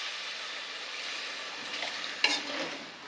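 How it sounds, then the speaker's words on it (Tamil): Water hits hot, sizzling masala in a kadai with a sudden hiss over a steady frying crackle and soft stirring, the sizzle loud and close. "1 டம்ளர் தண்ணி விட்டுக்கிறேன்"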